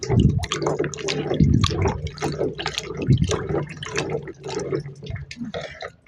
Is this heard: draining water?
yes